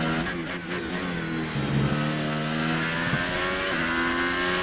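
A Formula 1 race car in the F1 2018 video game screams at high revs with a steady, loud engine tone that rises through gear changes, alone without talk.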